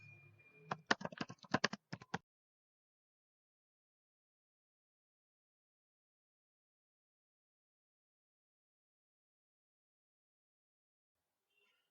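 A computer keyboard clatters in a quick, close burst of keystrokes lasting about two seconds while a prompt is typed, followed by near silence.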